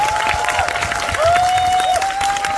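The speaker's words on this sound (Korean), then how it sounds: "박수 한번 주십시오." Audience applause and cheering at a Korean film press event for the movie The Moon, with a steady high whine running through and voices mixed in.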